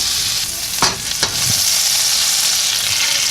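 Eggs with cheese cook in a frying pan with a loud, steady sizzle, broken early on by a couple of brief scrapes or stirs from a utensil.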